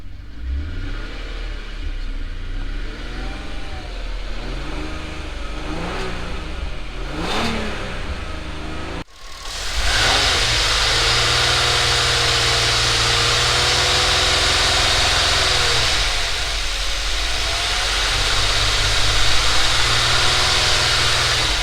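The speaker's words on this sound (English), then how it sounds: "I'm just going to start the car and see if the misfire's still there" An Audi TT 3.2 V6 with a misfire cranks, catches and fires up, then settles into a steady idle with a slight rise in revs near the end; the engine sounds close and there is no talking.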